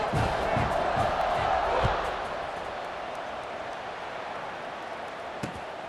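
A college football video game stadium crowd roars loudly at first, then settles into a steady, more distant murmur with faint cheers.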